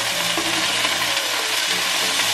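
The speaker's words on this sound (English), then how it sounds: "the oil popped on me" Hot oil crackling and sizzling steadily in a pan during home frying, a dense continuous hiss at close range with no voices over it.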